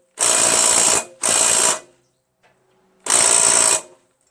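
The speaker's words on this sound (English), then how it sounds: "So while this DeWalt is much more stronger than my Black & Decker, right? It's still not strong enough to get that bolt off." A DeWalt power tool strains against a stuck bolt during the teardown of a blown Dana Spicer transmission from a Craftsman LT1000 riding lawn mower. It makes three loud, close bursts of rattling hammering with short pauses between them.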